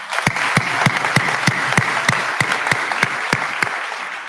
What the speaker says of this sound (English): Also worth a round of applause.